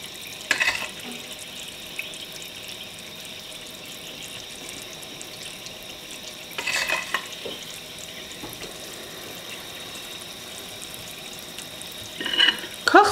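Steady, even sizzle of almond fritters frying in a pan, with a few brief louder clatters of utensils near the start, middle and end.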